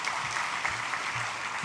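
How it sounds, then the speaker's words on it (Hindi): An audience claps steadily in a dense, continuous burst of applause welcoming Amit Shah, Union Home and Cooperation Minister, at a sugar factory event, with no voices over it. "हम सब तालियां बजाकर उनका दिल से स्वागत करेंगे।"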